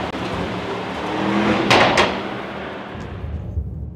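A 2025 Mercedes in sport mode gives off a deep exhaust rumble that swells, cracks with a couple of sharp pops, then fades into a quieter idle.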